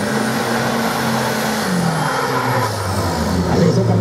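A turbocharged Volkswagen Passat drag racing car accelerates hard down a street drag strip, its engine a loud, sustained roar with rising pitch that holds steady throughout.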